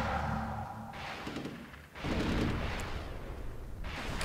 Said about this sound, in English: Now the rocket artillery comes out.